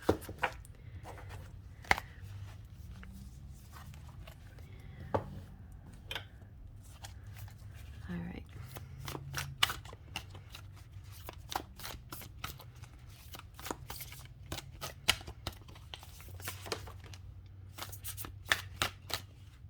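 A deck of Forest Creatures tarot cards is shuffled by hand in close, crisp riffles and flicks that come in irregular bursts with short pauses between them.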